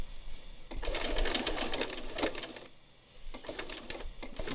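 Sewing machine stitching a colorful quilt around a dot, in uneven bursts of rapid ticking stitches with a brief pause in the middle, moderately close, with no talk.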